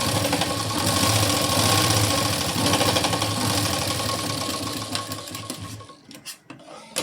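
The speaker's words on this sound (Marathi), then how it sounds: "इथे लगेचच मी डबल शिलाई देऊन घेते" A sewing machine runs fast and steadily as it stitches a tuck on a double-katori blouse, a loud, close, continuous mechanical rattle that slowly fades and stops near the end, followed by faint handling noises.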